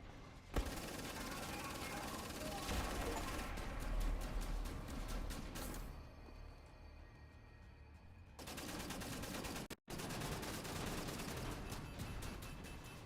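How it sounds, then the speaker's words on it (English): Dual-wielded laser guns in Wolfenstein: The New Order fire in rapid, sustained bursts that pause briefly, then resume with a cut, loud and close, amid game combat noise. "We got the dual wielding lasers out."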